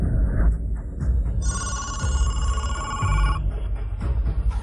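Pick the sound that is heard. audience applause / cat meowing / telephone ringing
telephone ringing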